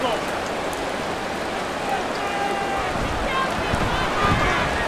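Steady rain falling in Madden NFL 24 during an extra point attempt in a Buffalo Bills versus Philadelphia Eagles football game, a continuous broadband hiss that holds evenly throughout, with commentary voices over it.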